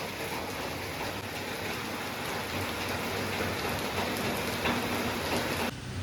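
Heavy rain falls steadily on a street during a dark afternoon downpour, a dense, even roar of drops throughout, with no voices.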